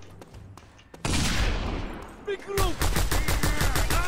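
Gunfire in the video game Just Cause 2, shotgun blasts and rapid shots rattling loud and close in dense bursts, while a voice shouts a command partway through.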